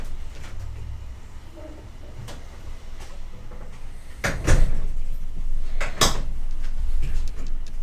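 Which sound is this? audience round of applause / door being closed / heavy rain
door being closed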